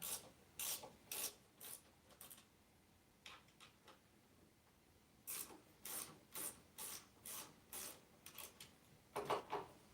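Fittings on a bicycle rack for a Himiway Cruiser e-bike are loosened with a ratcheting tool, giving quick bursts of clicking turns, a short pause, then a longer run of rhythmic ratchet strokes, quiet and close.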